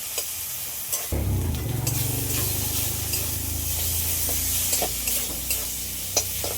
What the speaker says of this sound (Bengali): সবগুলো একসাথে ভালো করে একটু কষিয়ে নিই